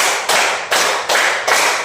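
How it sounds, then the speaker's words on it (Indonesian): A group claps a counted rhythm from one to five, with several sharp, loud, evenly paced bursts of hand claps close by, no talking. "Tepuk 1, tepuk 2, tepuk 3, tepuk 4, tepuk 5"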